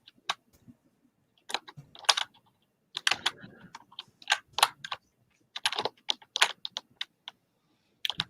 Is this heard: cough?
no